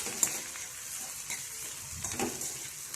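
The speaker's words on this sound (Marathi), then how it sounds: "हळद चांगली तेलात परतून घ्यायची आहे" Turmeric and fresh green peas sautéing in hot oil, a soft continuous sizzle with faint stirring scrapes and occasional light clicks of a utensil against the pan.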